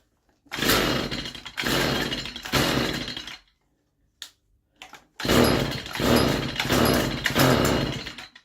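A Stihl FS 55 brushcutter with a faulty carburettor diaphragm is pulled over: three loud, rough engine bursts, a gap of near silence with a couple of faint clicks, then a longer run of three more sputtering bursts close up.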